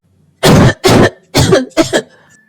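Four short, harsh coughs in quick succession, close and loud, with brief pauses between them.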